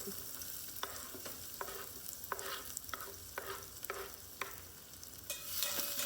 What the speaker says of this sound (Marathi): सो तेल घातलें म्हणटकीर तातूंत आमी हो कटींग केल्लो कांदो घालया